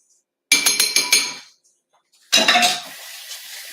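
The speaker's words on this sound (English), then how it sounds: "I'm going to stir that up with the fork to get it real merry." A fork clinks against a dish while stirring pepper into a cheeseburger quesadilla mixture, giving two bursts of quick, close metallic scraping and tapping separated by a short pause.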